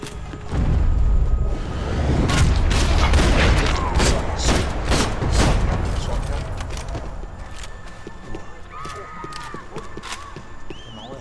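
Rapid gunfire and heavy booms from a shotgun in the video game Max Payne 3, a loud burst of repeated blasts crowding the first half, then thinning into scattered shots and mechanical clatter as the action fades.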